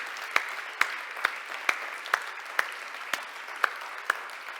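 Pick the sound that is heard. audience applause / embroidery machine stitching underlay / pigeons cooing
audience applause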